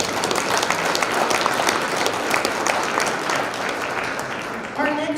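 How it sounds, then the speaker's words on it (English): Audience applause fills a school scholarship banquet hall, a dense, steady wash of many hands clapping for several seconds before it tapers at the end. "Can we give her a round of applause?"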